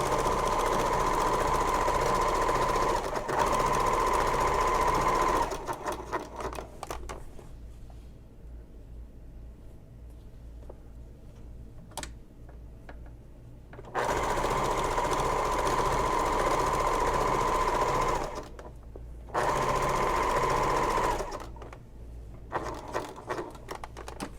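Sewing machine stitching a basting seam around three edges of a messenger bag's fabric, running in three long steady bursts separated by quiet pauses with faint handling noises, loud and close with no talking.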